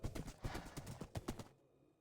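A horse's hooves clip-clop in Minecraft, a quick series of close, crisp knocking steps in an uneven rhythm that end abruptly, leaving near silence after.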